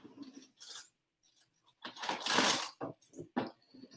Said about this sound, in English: I'm going to grab a bigger spoon with which to stir now.